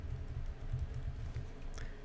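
Soft, quiet keyboard tapping as code is typed on a computer, a light irregular patter of keystrokes close by with no talking.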